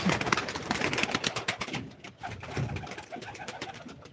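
Pigeons coo and flutter at a live pigeon auction, with dense overlapping cooing and clattering movement that stays loud throughout.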